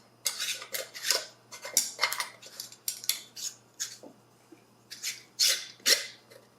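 Metal rings are screwed onto glass canning jars of homemade enchilada sauce, producing a string of close, bright metallic scrapes and clinks in uneven bursts.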